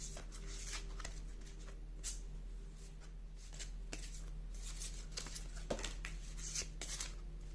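Large tarot cards being shuffled by hand, a steady run of soft papery riffles and slaps close to the microphone over a constant low hum, with no speech.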